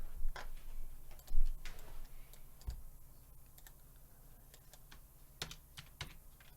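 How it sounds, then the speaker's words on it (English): Keys on a computer keyboard tap in quiet, irregular bursts, a few keystrokes at a time with short pauses between them, close and faint. "So I'm going to type in my entry price right here"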